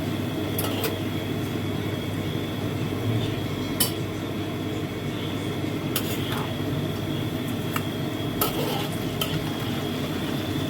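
Dried anchovies (ikan teri) being stirred as they fry in a pan for a tempeh stir-fry, giving a steady sizzling crackle with occasional scraping clinks of a utensil against the pan, close and continuous, with no talking.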